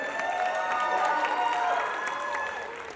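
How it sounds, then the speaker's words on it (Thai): An audience at a gala event claps and cheers in a dense, sustained burst of applause for performers on stage that gradually tapers off, with tonal music or ringing sounds mixed in. "ขอเสียงปรบมือให้อีกหนึ่งครั้งนะ"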